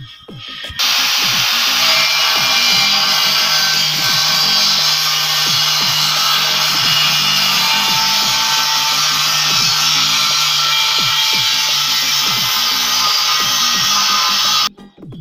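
An angle grinder cuts through a small steel gas tank, part of making a DIY cooking stove, giving a loud, steady whine with continuous scraping that runs nearly the whole clip and stops abruptly at the end.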